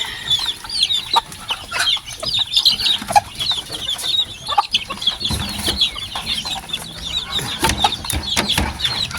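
Hatch gray and Maclean sweater chickens cluck steadily in an open-air coop, with many overlapping calls close by and occasional wing flutters over faint ambient noise.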